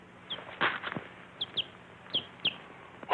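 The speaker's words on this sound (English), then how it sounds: "A chicken." A chicken clucks in short, sharp bursts at irregular intervals, close by, with a few soft thumps and rustles between calls and no talking.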